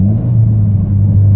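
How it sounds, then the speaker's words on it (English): A 2014 Mitsubishi Evolution MR engine gives a loud, close, low droning rumble as it downshifts, steady through the short burst. "Just listening to this car, just downshifting like that"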